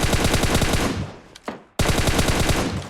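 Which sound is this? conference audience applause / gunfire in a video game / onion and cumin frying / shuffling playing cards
gunfire in a video game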